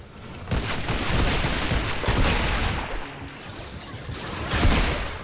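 Dense, continuous gunfire and explosions from a Fortnite Save the World battle, a sustained roar of overlapping shots with a few louder bursts and no clear gaps.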